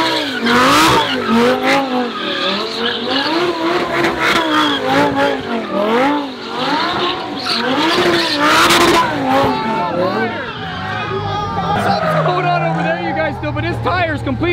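A Lamborghini drifting, its engine loud and revving while tires squeal in long, wavering screeches, with crowd chatter and voices mixed in throughout.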